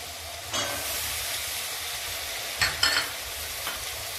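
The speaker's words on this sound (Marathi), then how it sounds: "आता हे सर्व मसाले परतून झालेले आहेत तर त्यामध्ये मी एक बटाटा चिरलेला आणि हिरवे वटाणे टाकते" Chopped potato and green peas stir-fry with spices in a hot pan, giving a close, steady sizzle with a few louder bursts as the spatula scrapes and turns them.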